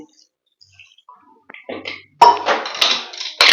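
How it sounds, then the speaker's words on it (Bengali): A metal pressure cooker lid clanks and scrapes into place during home cooking, a few sharp clinks and rattling metal knocks following soft handling noises, close and fairly loud. "প্রেসার ঢাকনাটা বন্ধ করে দিলাম"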